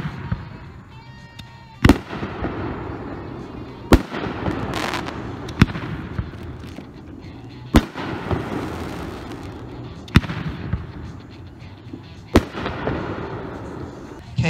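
Chaotic Kaboom fireworks cake of 500 tubes bursting in a fast chaotic barrage, with sharp loud reports standing out every couple of seconds over continuous crackle and rumble, voices faintly audible among the noise.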